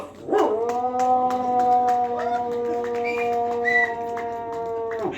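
A Yakshagana comedy performer vocally imitates a pack of dogs howling at the full moon, with long, wavering, layered howls held steadily and loudly for several seconds, rising in pitch near the end.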